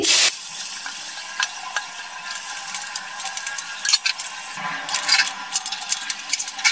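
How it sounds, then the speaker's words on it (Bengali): Two large chopped onions frying in hot oil for ilish pulao, a constant bright sizzle broken by repeated scraping stir strokes of a spatula in the pan, close and fairly loud with no talk. "দুটো বড় সাইজের পেঁয়াজ আমি কুচি করে কেটে নিয়েছি, সেটা ভেজে নিচ্ছি"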